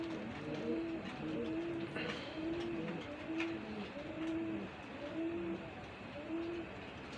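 Rajshahi Girebaz pigeons at a pigeon farm, a steady run of repeated soft coos in a regular rhythm, about six phrases close by over a low background hum, no talking.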